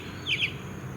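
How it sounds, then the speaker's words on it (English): Birds chirp loudly outdoors beside a parked 2004 Mercedes-Benz CLK500 Cabriolet, two quick bright tweets rising over a low steady background hum. "Listen to these birds. They are going bananas."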